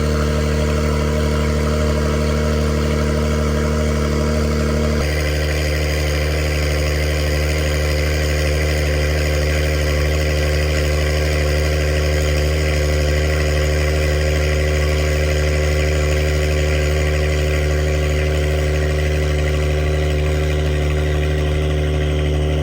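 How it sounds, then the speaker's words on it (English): A Honda NSX hybrid car engine running at a steady idle, a continuous low hum that shifts slightly in tone a few seconds in, then holds evenly. "It just goes from not running to suddenly it's idling."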